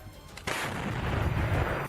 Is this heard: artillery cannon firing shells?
yes